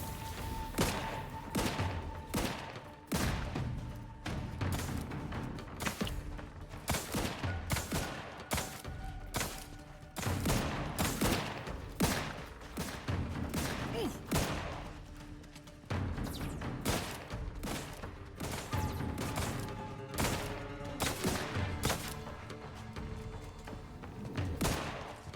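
Sustained gunfire from a firefight in the video game The Outer Worlds 2, with dense bursts of shots and heavy thuds repeating rapidly and loudly for the whole stretch, broken only by brief gaps.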